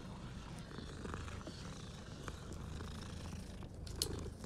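A cat purring steadily while being petted in the game Hogwarts Legacy, a continuous low rumble close by with no talking over it.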